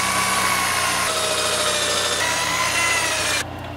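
Power drill boring through the sheet-metal body of a 1979 Camaro Z28 during plug-weld repair, a steady loud whine with a brief step partway through that cuts out abruptly near the end.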